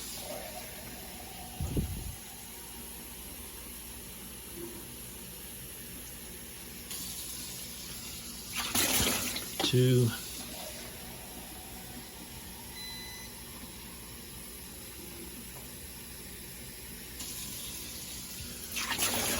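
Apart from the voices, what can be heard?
water being added into GE dishwasher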